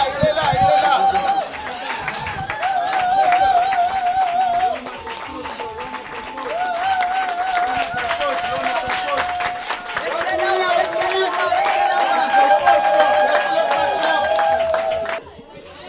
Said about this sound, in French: Levez-vous, applaudissez le président